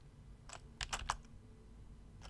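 Typing on a computer keyboard, a short burst of several quick, crisp key clicks in uneven rhythm, close and moderately quiet, then a pause and another keystroke at the end.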